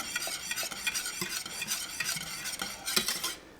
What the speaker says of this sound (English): as I'm stirring it, I can really feel it thicken up